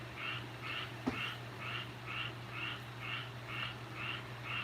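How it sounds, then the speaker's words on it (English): A frog croaking in a steady, evenly spaced series of about ten calls, faint and distant over a constant low hum, with one sharp knock partway through. "There goes Mr. Steve's frog back."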